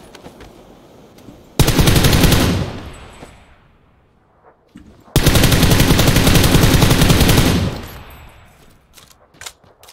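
Automatic gunfire in an online shooter video game, heard as two loud, sustained bursts of rapid shots separated by a quiet gap, with faint clicks and small sounds between the bursts.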